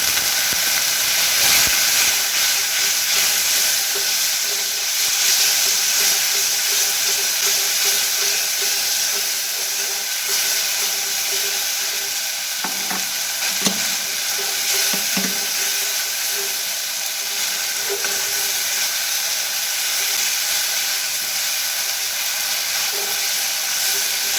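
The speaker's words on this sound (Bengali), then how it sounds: "আবার একটু জল দিয়ে মশলাটাকে ভালো করে কষে নেব" Masala spices with a little added water sauté in a pan for a Bengali pabda fish curry, giving a continuous close sizzle and hiss with a few scraping stirs partway through.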